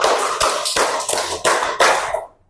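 Classroom group doing a rhythmic clapping game, sharp unison hand claps in quick bursts of two groups, loud and close, ending abruptly.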